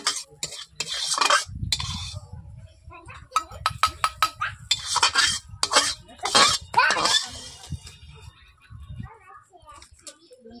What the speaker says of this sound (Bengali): এখন আমি কড়াই থেকে বাটির মধ্যে তুলে নিচ্ছি।